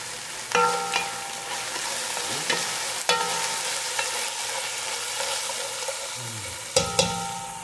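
Tomatoes fry in a hot pan for a mung bean stew, giving a steady close sizzle broken by several sharp clatters and scrapes of a spoon stirring against the pan.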